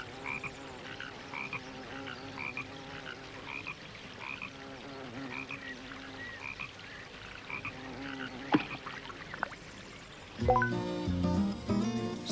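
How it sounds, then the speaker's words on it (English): A frog croaks in a pond from a children's animated story, repeated rhythmic croaks at moderate level over a soft musical background, followed near the end by a brighter burst of music. "On Saturday, Tom saw a frog in the pond."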